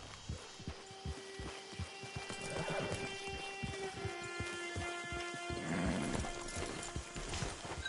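Horse hooves clip-clop in a steady trotting rhythm, with an occasional neigh, in the open-world western game Red Dead Redemption 2; close and moderately loud, with ambient game sound and no talk.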